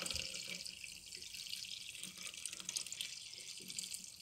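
Water pours in a steady faint hiss as it fills the bowl of a Monsieur Cuisine Connect kitchen machine, continuous with no talking.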